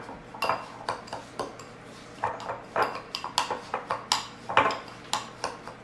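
Utensil scraping and clinking against a dish as breadcrumbs and Parmesan cheese are mixed into a chicken and kale casserole, a steady run of close, sharp clatters.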